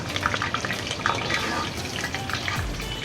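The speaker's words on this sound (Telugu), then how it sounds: "ఇది కొద్దిగా ఫ్రై చేసుకుందాము." Cashews fry in a pan for gongura pulao, making a soft, steady sizzle with light crackles, and a brief low thump near the end.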